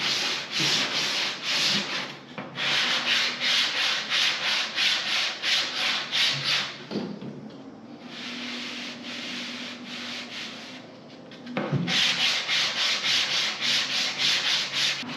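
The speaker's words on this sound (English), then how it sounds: "Okay, so I just did some sanding" Steady rhythmic sanding strokes rub across body filler on a Datsun 240Z quarter panel, close and fairly loud, with a short pause midway before the scraping resumes.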